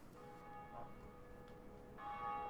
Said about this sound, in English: Oh, we are literally doing the bell thing.